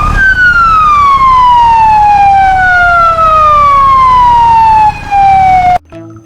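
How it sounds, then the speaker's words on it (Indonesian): A toy fire truck's electronic siren wails loudly and steadily in a single long descending tone with bright harmonics, cutting off abruptly near the end. "yang ini mobil pemadam kebakaran"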